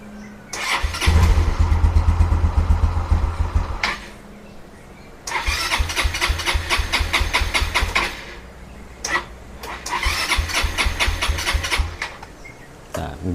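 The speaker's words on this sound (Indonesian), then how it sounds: "motor bisa nyala lagi" A Yamaha Xeon scooter, previously stalled from lost compression, cranks and starts three times, each start followed by a few seconds of loud, close, rapidly pulsing idle before cutting out.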